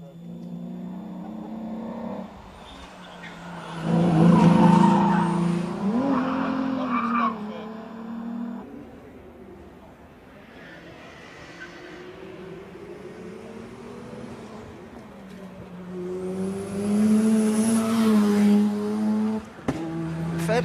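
A fairly stock-looking Rover Metro race car at a retro car gathering revs hard on track, its engine note rising and falling in two loud surges with tyre noise between quieter stretches.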